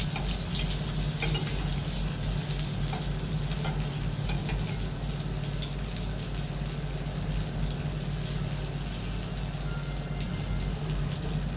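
Eggplant slices frying in a pan of oil for a crispy home-cooked vegetable dish, a loud, constant close sizzle with crackling and no voices.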